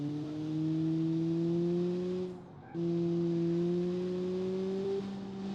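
A compact car drives in a video game with a steady, loud synthetic engine drone whose pitch climbs slowly. The engine drops out for a moment and then resumes at a constant tone, with no voices over it.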